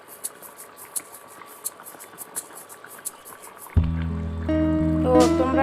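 Mustard hilsa curry with green chillies simmers in a pan, giving soft, irregular bubbling pops, until a much louder, steady tonal noise abruptly takes over near the end.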